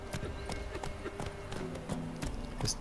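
Horse hooves clip-clopping in The Witcher 3 as a rider spurs a mount on and off, steady close hoofbeats with a faint whinny near the end.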